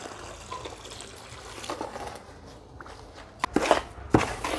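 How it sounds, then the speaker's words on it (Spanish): Water poured slowly into a two-to-one sand and cement mortar mix, a soft trickling with a few sharper splashing bursts near the end, close and fairly quiet with no talking. "Ahora el agua le ponemos de poco."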